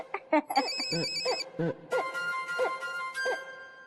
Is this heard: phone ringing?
yes